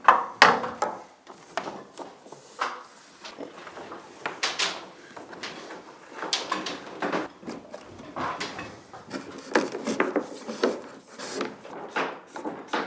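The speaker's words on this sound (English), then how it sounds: "start pulling the tubing" In-floor heating tubing dragged and pulled through fastening clips, heard as irregular close rubbing, scraping and creaking bursts, some sharper clicks, with no talk.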